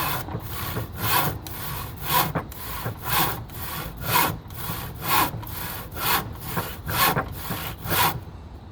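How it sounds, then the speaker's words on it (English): A crosscut hand saw cuts through wood in steady back-and-forth strokes, about fourteen rhythmic rasping passes heard up close without any voices. "And that's the crosscut saw."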